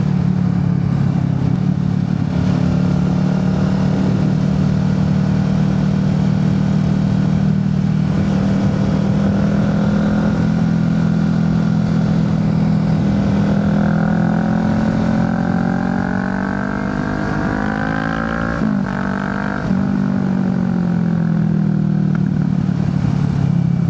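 Big motorcycles heading home after a show, a loud, steady, close engine drone that swells and rises in pitch as the bikes pull away, with no talking.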